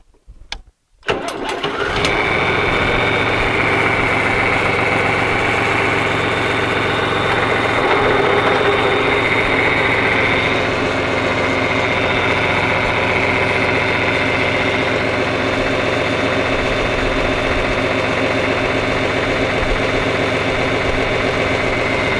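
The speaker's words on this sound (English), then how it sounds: "Now we're going to start the tractor and engage the PTO." A heavy tractor engine cranks and catches, then settles into a loud, steady rumbling idle that continues without a break as the PTO is engaged.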